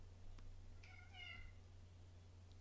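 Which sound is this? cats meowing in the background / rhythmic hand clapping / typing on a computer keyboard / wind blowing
cats meowing in the background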